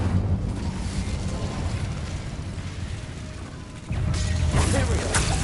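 Incendio fire spell cast in Hogwarts Legacy: after a low, steady rumble, a sudden loud burst of whooshing, roaring flame erupts and keeps crackling to the end.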